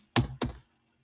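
Two quick, close keystrokes on a computer keyboard while entering router configuration commands, followed by silence.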